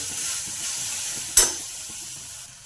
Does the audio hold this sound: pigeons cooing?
no